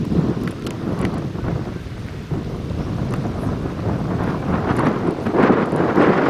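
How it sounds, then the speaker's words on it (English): Wind gusts across an outdoor youth baseball field, a loud, steady rumbling buffet against the microphone that swells toward the end, with no voices heard. "The wind has started to pick up here."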